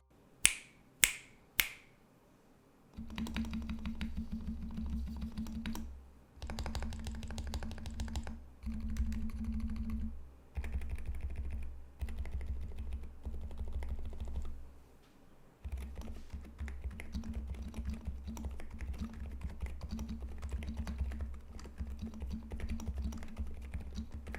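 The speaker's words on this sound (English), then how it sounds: "they deliver a fairly unique, incredibly soft typing experience, and it's best you hear it for yourself" A few sharp snaps, then steady soft, muted typing in bursts with brief pauses on an Epomaker RT100 keyboard with soft mechanical switches, close and fairly quiet, no voices.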